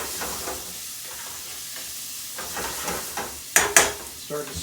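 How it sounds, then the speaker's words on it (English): Food braising in a pan on a stove for a Hungarian dish sizzles and hisses steadily up close, with occasional stirring scrapes and a couple of sharper clatters near the end. "This is going to braise on the stove."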